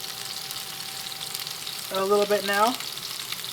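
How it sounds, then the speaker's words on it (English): Dry-rubbed pork pieces sizzle in a hot pan, a steady close frying hiss running throughout, with a brief spoken phrase breaking in partway through. "You hear that sizzle."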